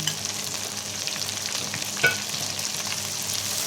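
Water spinach (kangkong) stems fry in a pan with tomato for adobong kangkong, a steady close sizzle broken by one louder clatter as the stems are stirred.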